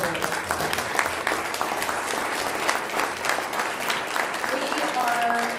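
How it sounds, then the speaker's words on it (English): Following a Texas House District 121 Republican debate, the audience gives the candidates a steady round of applause, dense clapping with crowd murmur and some voices mixed in throughout. "Let's give a round of applause to our candidates."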